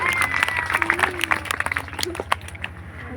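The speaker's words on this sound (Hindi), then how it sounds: "मुकेश भैया, दिलीप भैया, रामदास शाह के भैया, सभी भाइयों के लिए जोरदार ताली होनी चाहिए" Audience applause breaks out at a Hindi-language gathering, a dense patter of clapping mixed with crowd voices and steady background music, moderately loud throughout.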